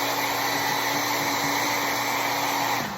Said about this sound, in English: I use my hair dryer.